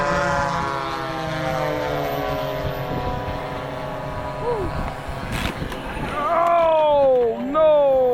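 A twin-engine RC P-51D Mustang model plane, capable of 200 mph, takes off with a loud, steady propeller drone that rises and shifts in pitch near the end. People talk over the engine noise.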